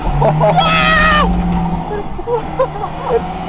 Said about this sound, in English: I think it fuel surged.